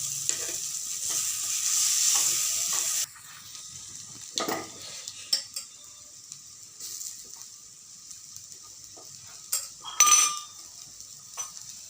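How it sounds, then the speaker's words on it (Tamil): Green peas sauté in a pan, opening with a steady bright sizzle that cuts off abruptly, followed by quieter frying and scattered spatula clinks and scrapes, with no one speaking. "பச்சை பட்டாணி வாசனை போடுற முடிய வதக்கணும்"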